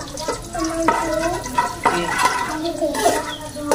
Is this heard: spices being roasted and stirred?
yes